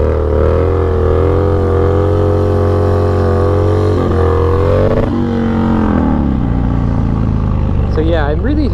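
A Harley-Davidson FXDX motorcycle engine runs loud and steady during wheelie practice, a rich low rumble that holds and then shifts pitch near the end, with a voice heard over it.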